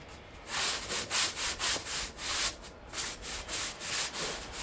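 A stiff broom scrubs a patio treated with Jeyes patio cleaner, giving about a dozen rhythmic bristly strokes in quick succession, close and moderately quiet.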